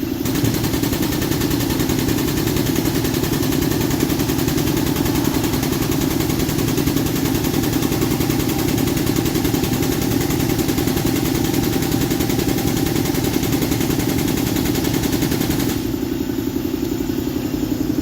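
An air compressor runs continuously with a loud, steady rattling drone close by, holding an even level for about sixteen seconds before its tone shifts near the end.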